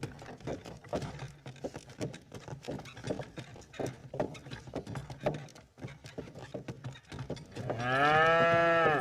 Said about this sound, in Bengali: লোকটি গরু দুটোকে যেই বলল চল হাট হাট, অমনি গরুগুলো চলতে শুরু করলো।